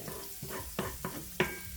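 Small onions sweating in a pan, with a soft steady sizzle and a series of light utensil scrapes and taps at an uneven rhythm, fairly quiet and close.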